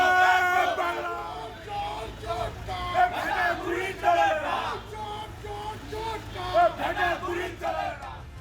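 Crowd of Trinamool Congress workers chanting political slogans such as 'Joy Bangla' and 'Go back' at Locket Chatterjee in Dinhata, loud overlapping shouted voices rising and falling in rhythmic bursts throughout.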